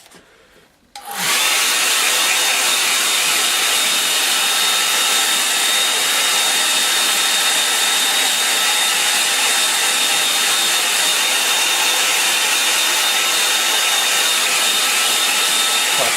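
A hair dryer drying a watercolour painting switches on after a moment of quiet and then blows loudly and steadily with a constant whooshing roar right up close, with no voices.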